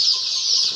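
Young chicks in a rural poultry shed, a continuous high-pitched chorus of peeping from many birds together, steady and fairly loud.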